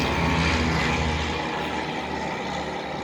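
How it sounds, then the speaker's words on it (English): Two planes flying overhead, a steady droning engine hum with a low propeller-like throb, loud and constant with no talking over it. "2 planes flying over."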